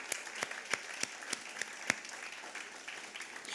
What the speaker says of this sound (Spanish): Un aplauso al que resucitó.